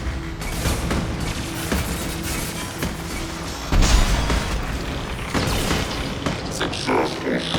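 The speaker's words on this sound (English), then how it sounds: "Almost got killed by our own turret." Gunfire from an automated turret in the Mass Effect 2 video game, a loud burst of shots that sharpens into a heavy blast midway, heard under someone talking throughout.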